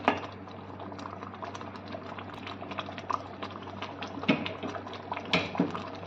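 Thick paneer butter masala gravy bubbles and pops steadily in a pan, with soft, irregular plops close by.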